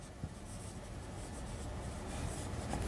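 Chalk or marker scratches steadily across a board while chemical symbols are written, a continuous close rubbing with small strokes and no talk.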